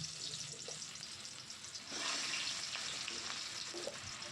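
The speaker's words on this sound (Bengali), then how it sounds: "তেলটা গরম হয়ে গেছে, এবার আমি এই তেলের মধ্যে আলুগুলো সব দিয়ে দেব।" Potatoes dropped into hot mustard oil for aloo dum, frying with a steady loud sizzle that swells and intensifies partway through, with no voices.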